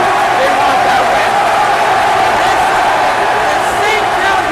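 Dense crowd roar at a high school basketball game between Hudson Catholic and St. Peter's Prep in Jersey City, a loud steady wall of cheering and shouting that holds for the whole stretch.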